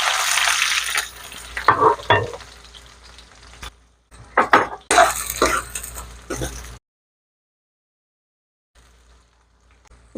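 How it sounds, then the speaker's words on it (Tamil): Mustard seeds and urad dal splutter in hot oil with bursts of crackling and stirring clatter in the pan, broken by sudden cuts and a long silent stretch near the end. "கடுகு, உளுத்தம்பருப்பு நல்லா பொரியட்டும்."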